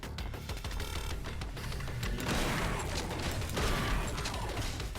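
A shotgun fires in the video game Bunker Punks, heard as dense bursts of mechanical gunfire with rapid clattering hits. It sits among constant game effects and music, loud throughout.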